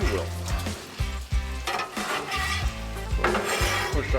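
A metal spatula scrapes and pushes bacon fat across a hot Blackstone griddle, with repeated loud rasping strokes and clanks over a steady sizzle.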